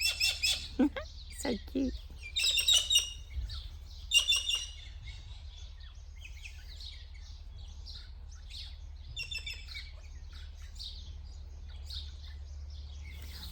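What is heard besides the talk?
two white cockatoos calling loudly from a branch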